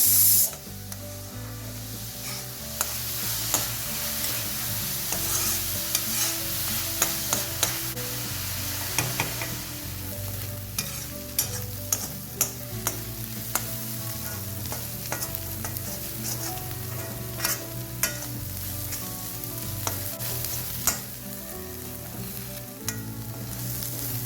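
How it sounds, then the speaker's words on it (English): Finely chopped onion, ginger and garlic fry in coconut oil in a kadai for a mutton pepper fry, giving a steady close sizzle broken by frequent sharp scrapes and clinks of stirring, with no voices. "add 2 tablespoons of coconut oil. Add the finely chopped onion, ginger and garlic. Now this has to be well fried"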